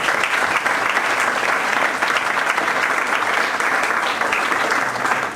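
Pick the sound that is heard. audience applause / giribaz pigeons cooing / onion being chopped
audience applause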